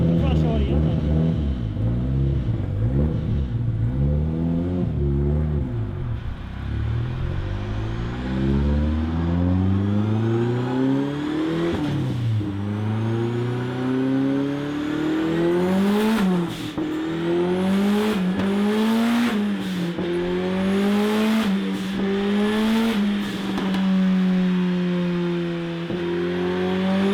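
A Volvo 745 turbo with a four-cylinder engine revs up and accelerates repeatedly, its pitch climbing and falling in long sweeps, loud and close, with a few short crackling bursts.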